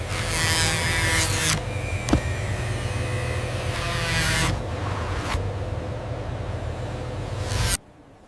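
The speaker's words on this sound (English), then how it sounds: "Internal reinforcement stitching." A sewing machine runs reinforcement stitching on a cow leather jacket in a factory, giving a loud steady buzzing whir in several long runs with short pauses between them. The motor cuts off abruptly at the end.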